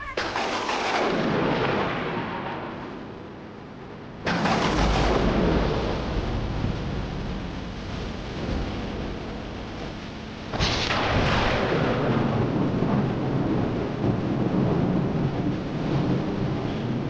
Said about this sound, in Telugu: ఉన్నట్టుండి ఉరుమురిమింది